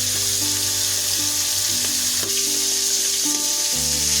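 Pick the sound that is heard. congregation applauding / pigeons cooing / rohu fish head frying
rohu fish head frying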